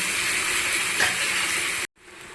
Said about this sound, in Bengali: ফোড়নের মধ্যে পেঁয়াজ, তার মধ্যে একটু নুন দিয়েছি আর আদা রসুন দিয়ে ভালো করে নাড়িয়ে চাড়িয়ে দিচ্ছি